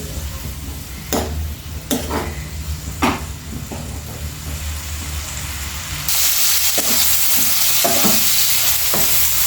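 Onions frying in a pan for an onion egg curry, a steady sizzle with repeated spoon scrapes and stirs, the hiss growing louder and brighter partway through.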